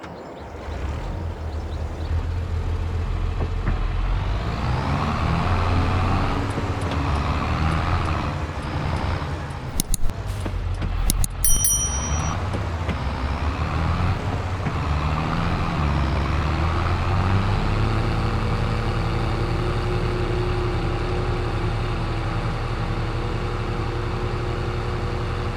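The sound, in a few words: Massey Ferguson tractor engine in Farming Simulator 22 video game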